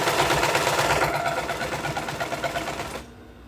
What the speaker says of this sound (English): the way your sewing machine is situated can affect how it pulls